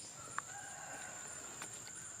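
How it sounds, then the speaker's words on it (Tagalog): A rooster crows in the distance, faint and brief, heard once over a steady outdoor hiss with no talking. "May mga tilaok ng manok din."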